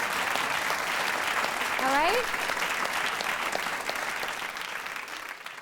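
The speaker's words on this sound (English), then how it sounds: "And we want to clap for you." An audience applauds steadily throughout as a voice speaks briefly over the clapping, the sustained dense applause easing slightly toward the end.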